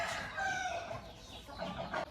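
A heavy-size white hen clucks in a few close, steady bursts on a poultry farm near Nellore, with no voices over it.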